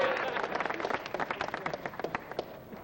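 A chorus audience applauds and cheers to welcome the hero, a preacher character, in a staged show: a dense wash of clapping and crowd noise, moderately distant and steady, swelling slightly toward the end.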